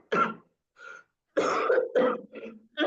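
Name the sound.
cough during Quran recitation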